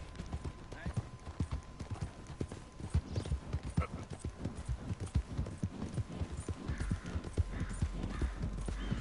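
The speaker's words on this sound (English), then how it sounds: "That's a nice horse." Horse hooves clip-clop at a steady walking pace in the video game Red Dead Redemption 2, a rhythmic run of close, muffled thuds under a low background hum, with people talking over them.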